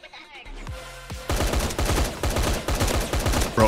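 Automatic gunfire in the Fallen Survival shooter game, starting with a few scattered shots and building into a dense, loud burst of rapid fire that carries on to the end.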